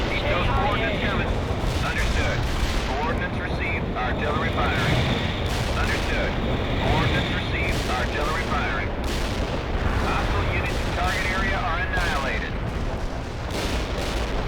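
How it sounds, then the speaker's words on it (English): Artillery barrages in the World in Conflict video game, a dense, continuous rumble of booms and crackling blasts across the whole stretch, with radio chatter mixed over the top. "Artillery firing."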